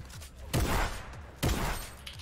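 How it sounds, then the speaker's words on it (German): Sniper rifle shots in the video game Fortnite: two sharp, loud cracks about a second apart, each trailing off into a short decay, set against faint background noise. "Oh, ich werde auch hart angesniped."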